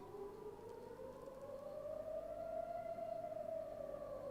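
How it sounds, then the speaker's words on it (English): A rocket warning siren in Tel Aviv wails as a long, steady rising tone, heard from a distance and fairly faint, with no voices over it. "I have a siren going off, and that means that a rocket is on its way to Tel Aviv"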